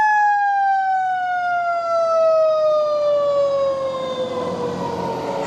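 A fire truck's siren wails loud and steady, one long tone that slowly drops in pitch as the truck passes close by on a city street, with no voices over it.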